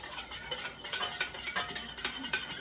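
Spoon scraping and clinking against a bowl while sugar and yeast are stirred into four cups of flour, with quick irregular strokes close by and no talking.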